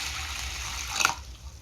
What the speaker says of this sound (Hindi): इन्हें अच्छे से धो लेते हैं हम पानी के अंदर पहले